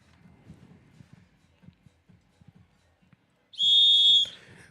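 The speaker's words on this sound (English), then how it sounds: "you hear that whistle right there, and that means we are sure out of luck, sure out of time as well" A sustained whistle blast at an Iowa Central Rodeo event signals the end of a timed run, loud and steady for under a second after quieter crowd and arena noise with faint speech.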